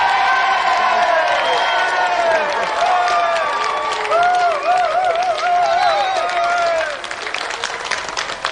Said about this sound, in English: let's have another round of applause for Ben McCluskey and our special guest,